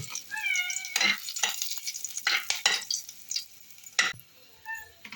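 Curry leaves and garlic crackle in hot oil in short, sharp sizzling bursts, while a cat meows repeatedly close by between them.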